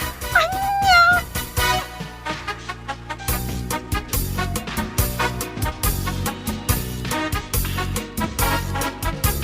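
A cat gives a couple of clear, rising meows inside a house near the start, then rhythmic music with sharp beats takes over for the rest.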